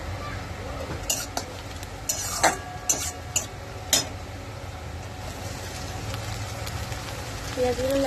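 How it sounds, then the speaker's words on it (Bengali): Onions frying in a pan for a home-style Bengali vegetable curry, a steady low sizzle with several sharp clinks and scrapes of a utensil against the pan in the first half. "পেঁয়াজগুলো লাল লাল করে ভাজা হয়ে গেছে।"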